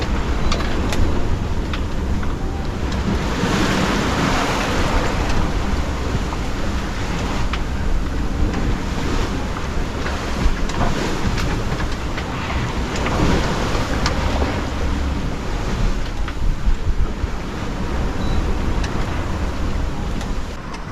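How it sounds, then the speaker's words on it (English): Steep ocean waves pound a sailing boat on a rough passage toward New Zealand, a continuous loud wash of water and wind noise with repeated heavier slaps and surges, no voices. "Waves have got really steep within the last half an hour. We're struggling a little bit, keep hitting them."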